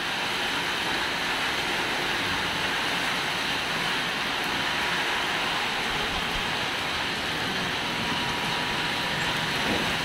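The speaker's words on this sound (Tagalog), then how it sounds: "Naririnig natin ngayon yung palo ng mga yero." Steady roaring typhoon wind with a constant broadband rush throughout, with no distinct metallic bangs from corrugated metal roof sheets standing out; no voices.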